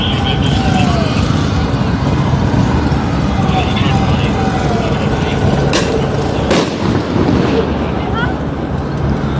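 Concussion grenades fired at a protest against immigration enforcement in Los Angeles, with two sharp bangs standing out over a constant roar of crowd noise and wind.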